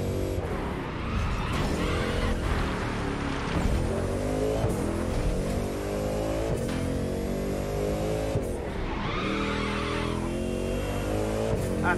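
Race cars in the video game The Crew 2 roar continuously with revving engines, and tires squeal and skid loudly. The engines rise and fall in pitch throughout, with no speech over them.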